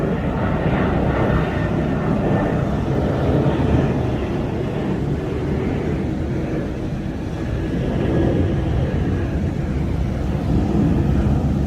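An airplane passes close by near Jeju airport, making a loud, steady jet roar that fills the whole stretch and swells slightly near the end, with no talking.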